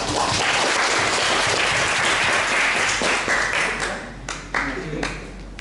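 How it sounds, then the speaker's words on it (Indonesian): A room of university students claps together in a full, loud burst of applause that thins into scattered final claps. "Wow, tepuk tangan."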